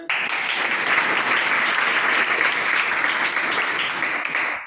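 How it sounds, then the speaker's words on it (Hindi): Dense, steady applause from a classroom of students during a class 7 maths lesson, loud and sustained for nearly five seconds before tapering off at the end. "इसके लिए ताली हो जाए।"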